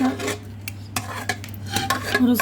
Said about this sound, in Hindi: तो देखिए हम इसको बड़े से भगोने में ट्रांसफ़र कर रहे हैं।